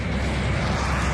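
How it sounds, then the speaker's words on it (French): A loud, continuous jet engine roar from a Concorde accelerating down the runway toward 320 km/h, broad and rumbling, with no voices. "le Concorde accélère pour atteindre 320 km/h"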